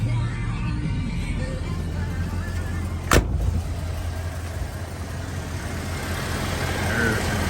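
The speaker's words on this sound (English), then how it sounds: "There's 351, power steering, power brakes, air, runs nice and smooth." A 1985 Ford Bronco's 351 V8 engine idles with a steady low rumble, broken once by a single sharp knock or clunk.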